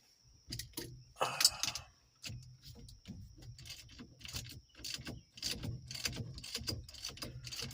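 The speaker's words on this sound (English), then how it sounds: "Why is this ratchet being a pain? It's a 3/4 inch socket." A hand ratchet turning a 3/4 inch socket while repairing a non-tilt Chevy truck steering column: irregular bursts of quick metallic clicking, close and fairly quiet, in short spurts with pauses.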